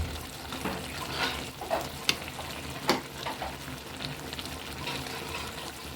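A pot of kochur loti (taro stolon) curry cooked with coconut milk simmers with a continuous soft sizzle and bubbling, broken by a couple of sharp clinks.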